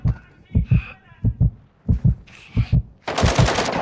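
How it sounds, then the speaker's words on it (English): Gunfire in the video game Warzone 2.0 DMZ: a rapid run of close, punchy automatic shots with short pauses between bursts, ending in a louder, sustained volley. "You are taking effective fire."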